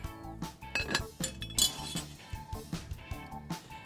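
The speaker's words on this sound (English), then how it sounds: "First, add about 6 ice cubes to a bar shaker." Ice cubes clink and rattle into a cocktail bar shaker in several quick, close, clattering drops.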